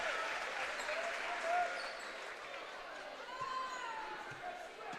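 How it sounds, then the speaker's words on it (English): Crowd applause fills a high school boys varsity basketball gym as a player substitutes into the game, a steady roar of clapping and chatter with a commentator talking over it throughout. "Monin with a nice round of applause."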